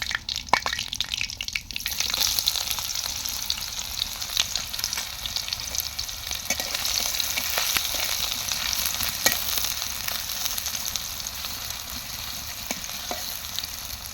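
Onions fry in hot oil for a chicken feet bhuna, a continuous loud close sizzle with occasional stirring clicks, heard alone.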